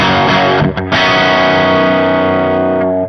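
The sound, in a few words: electric guitar through treble booster pedal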